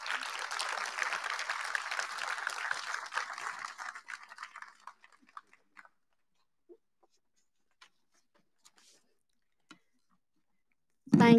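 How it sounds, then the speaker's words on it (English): An audience applauds at a 2023 Morgan State University nursing pinning ceremony: a dense wash of clapping that thins and fades out over about four seconds, then near silence with a few faint clicks and a sudden noise at the very end. "Again, can you give him another round of applause, please?"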